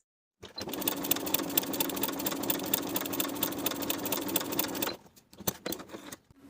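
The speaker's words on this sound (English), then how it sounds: "Sewing these long stitches between the small dots transferred from the pattern piece." A sewing machine runs steadily, sewing long easing stitches across a coat sleeve cap, a fast even whir that stops abruptly, followed by a few faint clicks and handling sounds.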